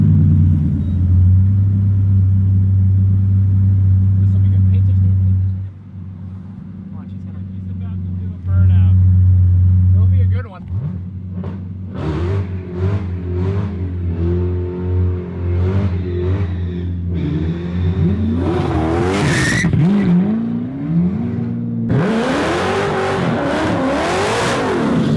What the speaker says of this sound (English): the Ford GT sounds unbelievably mental. The Hellcat is mental. Koenigsegg is mental.